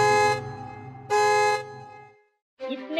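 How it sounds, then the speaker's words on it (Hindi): Auto rickshaw horn honks twice in loud, sustained blasts, each lasting about half a second, followed by a short silence and the start of another blast, with no talking. "तब भूत ऑटो के हॉर्न बजाने लगती है।"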